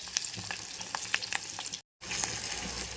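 Green chillies fry in a hot pan with a steady crackling sizzle and a few sharper pops, broken by a brief silent gap before the frying resumes at the same level.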